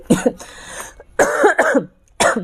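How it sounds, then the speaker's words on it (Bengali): Several harsh coughs come close to the microphone in quick bursts, a couple at the start, a pair in the middle and one more at the end. "আমার এত কাশি হয়েছে বুঝছেন আমি কাশতে কাশতে আমার অবস্থা খারাপ"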